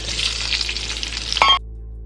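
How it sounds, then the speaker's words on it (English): Onions hitting a hot cast iron pan, a brief bright sizzle with a sharp metallic clink before it stops abruptly. "Using the same cast iron, add your onions."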